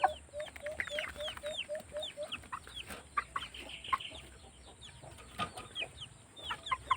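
Several chickens cluck and chirp in short repeated bursts close by, with a steady high hum and some rustling in the background.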